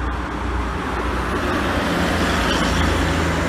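A bus passes close by while overtaking another bus on a road near a rest area, a steady loud roar of engine and road noise that builds slightly toward the end.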